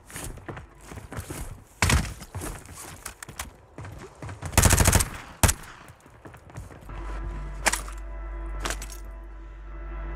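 Gunfire in Warzone 3 comes as scattered sharp shots and a dense rapid burst near the middle, with clinks and movement between them, then a steady low hum toward the end.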